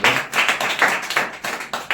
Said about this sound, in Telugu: అందుకే మహాజ్ఞానాన్ని నేర్చుకునేదానికి మీరంతా వచ్చినందుకు ఒకసారి క్లాప్స్ కొడదాం దేవునికి